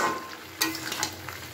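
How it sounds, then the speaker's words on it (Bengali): Mixed vegetables sprinkled with turmeric being stirred in a pan: soft continuous sizzle with a couple of sharp scraping clicks from the spoon, brief and close. "দিয়ে ভালো করে আবার একটু নাড়াচাড়া করে নিচ্ছি"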